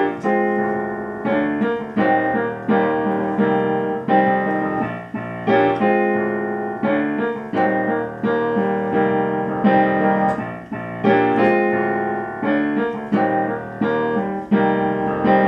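Solo piano plays a song with extra pickup notes added to the written rhythm, giving a grooving, syncopated feel; chords strike in a steady pattern and ring out, loud and close, with no voices.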